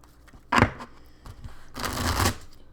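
Tarot cards on thin cardstock riffle-shuffled hard, two distinct brisk bursts of fluttering card riffle, the second longer, heard up close with no talk.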